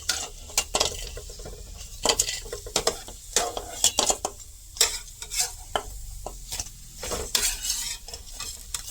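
Gandhabhadali leaf pakoras cooking in hot oil, a steady close sizzle broken by repeated scraping and clinking of a utensil stirring and lifting the fritters in the pan.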